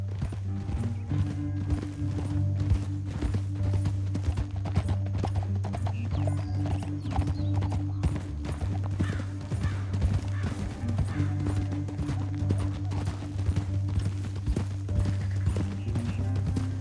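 Horse hooves clip-clop steadily on a canyon trail in Red Dead Redemption 2, the rhythmic footfalls layered over a low droning score and ambient game sound.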